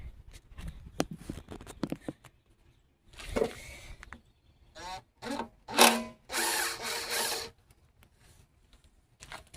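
A power tool spins off bolts holding the gas tank on a Briggs and Stratton push mower, sounding as several short whirring bursts of varying length, close and fairly loud, with softer clicks and handling noise between them.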